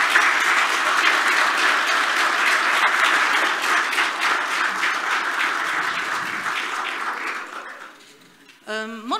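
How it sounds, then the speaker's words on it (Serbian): An audience at an agricultural panel discussion breaks into sustained, dense applause that holds steady for several seconds, then fades out before a voice begins speaking. "molim vas još jedan aplauz za sve nas"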